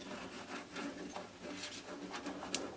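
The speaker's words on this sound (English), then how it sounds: "And I'm just rubbing it down to make sure that it adheres nicely." Copper tape being rubbed down firmly onto a flat surface, a quiet, continuous dry scuffing and rubbing with a few faint ticks, close and alone.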